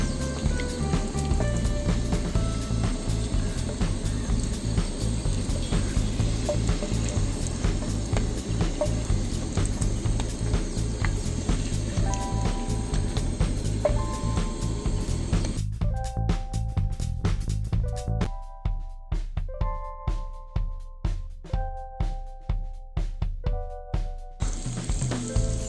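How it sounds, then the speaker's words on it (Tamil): Egg momos deep fry in hot oil with a dense, steady sizzle and crackle, close up; near the end the sizzle thins and drops to sparse pops and bubbling. "இப்போ அவிக்காமலே இந்த மாதிரி பண்ணி எண்ணெய்க்குள்ளே போட்டிருக்கோம்."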